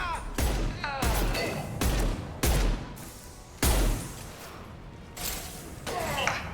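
Gunfire in the Mass Effect 2 video game: heavy booming shots and blasts land in irregular bursts roughly a second apart, each followed by a decaying rumble, loud and close with no talk over them.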